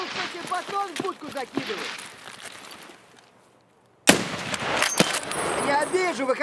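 Gunfire in the video game Escape From Tarkov on the Streets map, sharp cracks and a burst of shots over voiced chatter, with a quiet gap before a loud shot resumes the action.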